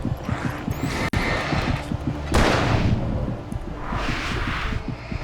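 Gunfire in the video game Alan Wake Remastered on PS5, a sharp crack followed by a heavier booming blast over a constant rumbling wind-like background.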